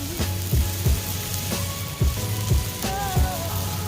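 Green onion hits hot fried rice with a steady close sizzle, overlaid by repeated clacks of a spatula against the pan at a loose, irregular rhythm.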